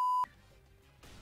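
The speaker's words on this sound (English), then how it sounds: "the viewers just heard a beep right there" A single loud, steady censor beep tone from Speedrunners gameplay lasts about a quarter second, followed by quiet game background and a brief burst at the end.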